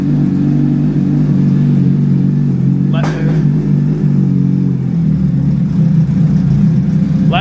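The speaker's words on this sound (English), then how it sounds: "We'll get the bike fired up." A 2023 Suzuki Hayabusa motorcycle engine fitted with Brocks cams runs steadily at a close, loud idle, holding an even low drone for the whole stretch with a brief sharper noise near the middle.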